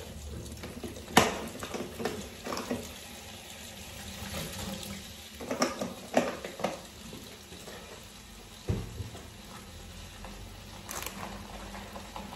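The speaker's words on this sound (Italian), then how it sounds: "Ci metto l'acqua e un po' d'ammoniaca" Water running from a kitchen tap into a sink while it is filled with ammonia for cleaning, a steady low hiss broken by several clanks and splashes of handling.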